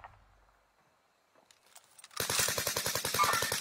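Rapid automatic gunfire in a video game, a fast steady burst of close, loud shots that starts after a quiet stretch with a few faint clicks and runs to the end.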